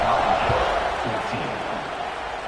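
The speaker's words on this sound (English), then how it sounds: "this crowd is buzzing after that last score" A football stadium crowd at a Nebraska college game keeps up a steady, loud roar and murmur that fills the whole stretch without a break.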